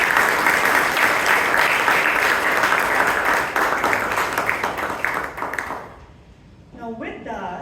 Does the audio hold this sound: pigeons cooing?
no